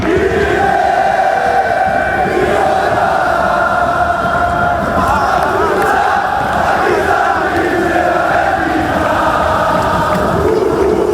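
A large football crowd chants in unison, a massed roar of voices rising and falling in a sustained sung rhythm, loud and continuous from a distance across the stadium.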